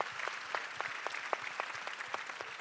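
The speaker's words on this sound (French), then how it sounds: "Oui, on peut les applaudir." An audience claps for parents at a French national conference on inclusive schooling, with distinct individual claps ringing out at a brisk uneven rhythm, fairly close and moderately loud, and no talking over them.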